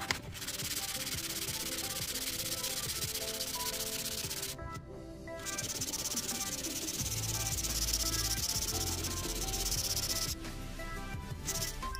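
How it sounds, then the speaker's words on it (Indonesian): Steady, continuous abrasive rubbing of sandpaper on a metal plate and nut, close and loud, with a brief pause midway and another near the end. "kita amplas terlebih dahulu pada bagian platnya dan juga pada"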